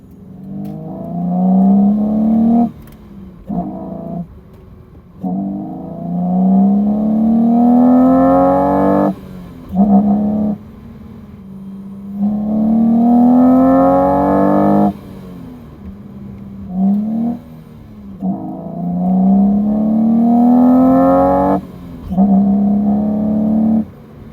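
A 2004 BMW Z4 E85 with its intake foam removed revs up repeatedly, each rising engine roar lasting a few seconds before dropping off, close and loud, about five pulls in a row.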